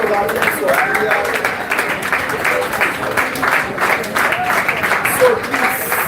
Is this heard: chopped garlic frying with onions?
no